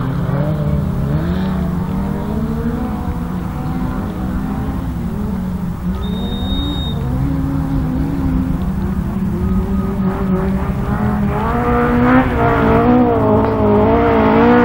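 Autograss race cars on the last lap at St Neots, engines roaring loud and continuous with rising and falling revs as several cars race past at close range, a brief whistle-like tone in the middle.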